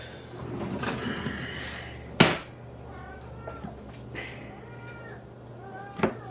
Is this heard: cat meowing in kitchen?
yes